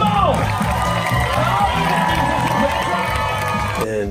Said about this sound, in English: the crowd begins to cheer, make some noise for these musicians, come on!